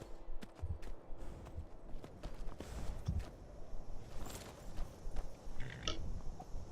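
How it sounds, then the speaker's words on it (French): Horse hooves clip-clop in the video game Skyrim, a soft, irregular run of muffled hoof steps at low volume with faint game ambience behind them, with no voices. "Trop cool, j'ai un cheval."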